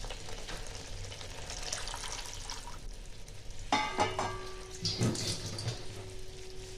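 Water poured into a pan of simmering Bengali white potato curry (sada aloo dum), a rushing wash of liquid over steady background cooking noise, with a brief louder splash partway through.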